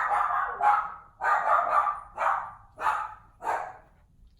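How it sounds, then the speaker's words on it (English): A dog barks in five bursts spaced about a second apart, loud and close, with no talking. "Georgia, why are you barking?"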